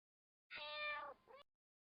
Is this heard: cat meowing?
yes